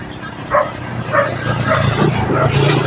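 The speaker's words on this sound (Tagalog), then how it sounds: "tahol naman ang tahol yung aso" Several short dog barks, roughly evenly spaced, ring out under a bridge over steady background noise with a low hum.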